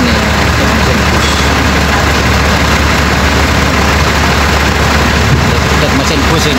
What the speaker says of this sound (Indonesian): Dek mesin ini, mesin bus.